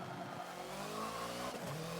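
Hoonigan Ford Focus in a Forza racing game at Yas Marina South, pulling out of the pits under acceleration, with a dense engine note climbing through revs and a brief shift dip near the end, loud and continuous.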